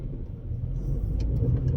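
Inside a car rolling along the road, a steady low engine and tyre rumble fills the cabin, close and continuous, with a few faint clicks and no voices.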